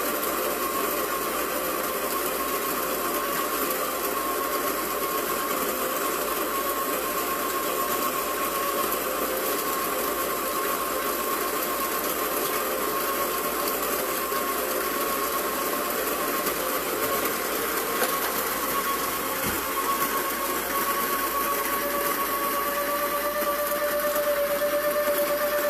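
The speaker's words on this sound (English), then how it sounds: "you can like, comment, and then share while this grinds." An electric coffee grinder grinds beans for American drip brewing, giving a loud, continuous whirring drone that holds steady from start to finish, its pitch rising a little toward the end, with no voices.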